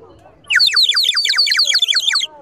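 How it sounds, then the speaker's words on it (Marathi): A terracotta clay bird whistle toy gives a rapid, bright warbling trill of chirps lasting about two seconds, loud and close with nothing else over it. "ही टेरेकोटा मातीपासून बनलेली चिमणी आहे. याचा आवाज खूप सुंदर येतो"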